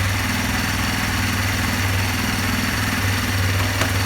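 A Kawasaki KLX230 fuel-injected, electric-start 230 dirt bike idles close by, a steady low thrumming engine note with an even, unbroken rhythm throughout.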